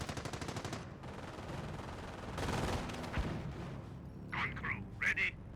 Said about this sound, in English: Mortar, maybe barraging.